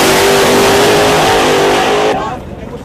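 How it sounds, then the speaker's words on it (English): A brand-new race car's engine revs loud and close on its first real lap, a dense high roar that holds steady before dropping away sharply near the end. "Okay, Haney, brand spanking new car right there. First real lap"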